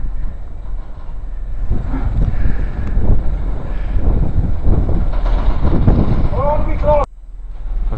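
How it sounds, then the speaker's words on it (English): A Land Rover pulling a cattle trailer rumbles past close by on a farm, a steady rolling engine and rattle throughout, with brief squeaks near the end and a person talking over it. "And here comes Land Rover and trailer."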